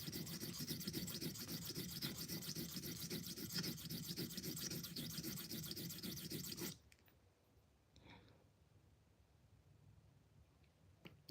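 Steel knife blade rubbed back and forth on a 1000 grit whetstone, a dense, continuous gritty scraping for several seconds that stops abruptly, leaving near quiet with a faint knock.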